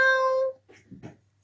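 One clear, tonal cat meow sounds up close and alone, followed by a few faint, soft murmurs and rustles.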